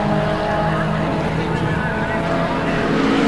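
Holden VK Commodore touring race car at full speed during a 1987 race at Surfers Paradise International Raceway, a loud, dense, continuous engine roar that holds steady throughout with no pauses.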